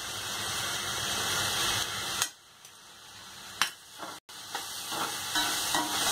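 Chapati noodles with corn, soy sauce and tomato ketchup stir-fry in a hot pan, giving a steady close sizzle and hiss broken by a few sharp clinks and scrapes of stirring.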